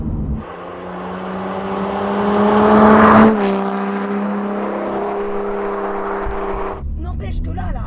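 Lotus Evora GT410 Sport engine while driving on a winding road: a steady, loud cabin drone that swells as revs climb, peaks, then eases back to an even cruise, with a brief shift-like dip near the end.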